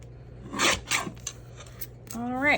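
Scissors snip through vellum paper, trimming a pocket piece: two short close cuts, then a brief voiced sound near the end over a low steady hum.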